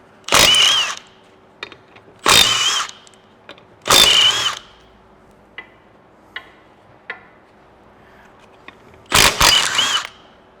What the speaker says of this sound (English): now we'll give the M18 mid-torque gun a go